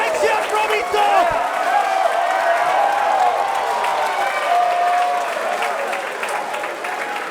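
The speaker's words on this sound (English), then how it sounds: "This capacity crowd here at the MCW Pavilion coming alive for Mitch Waterman." A capacity crowd of over a thousand wrestling fans at the MCW Pavilion in Melbourne cheering and applauding, a loud, sustained roar with clapping and shouts while a commentator talks over it.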